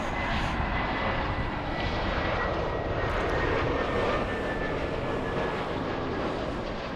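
A jet airliner departing LAX roars steadily and loudly for the whole stretch, a continuous broadband engine rumble with a faint high whine, heard from a plane-spotting position with no talk.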